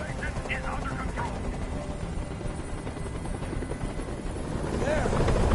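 A helicopter hovering in the video game Detroit: Become Human throbs with a constant heavy rotor roar that swells slightly toward the end, with faint chirps early and late.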